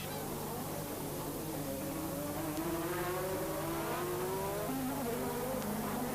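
Turbocharged 1986 Formula 1 cars race around an undulating circuit in a close pack, their high-pitched engines whining and climbing through gears, several overlapping tones rising and falling at a moderate distance.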